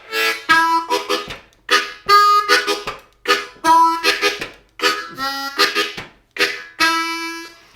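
A harmonica plays a bluesy, rhythmic vamp of short repeated draw-note chugs and bursts, close and clear, with no talking.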